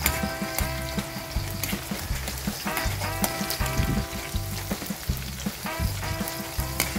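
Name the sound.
garlic frying in oil for adobo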